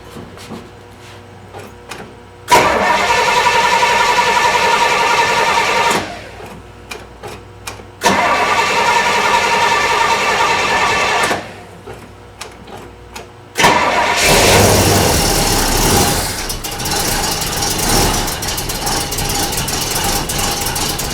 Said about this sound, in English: Let's crank up the battery juice to full start.